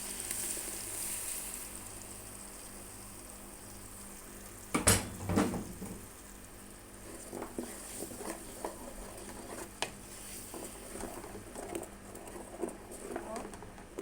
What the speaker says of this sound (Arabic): نحط الصلصة بتاعتنا